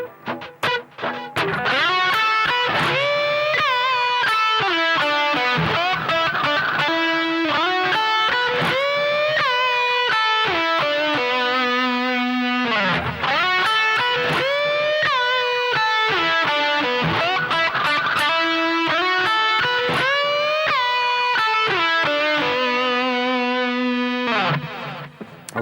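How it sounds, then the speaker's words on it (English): Distorted electric guitar plays a lead lick that mixes step-and-a-half bends with whole-step bends, sustained and loud, with effects processing and no talking. "So I'm combining step and a half bends with whole step bends."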